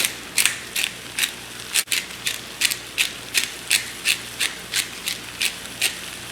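Pepper mill cracking pepper over a high-fiber vegetarian protein dish, a steady run of about a dozen crisp ratcheting grinds at an even rhythm, close and clear with no talk.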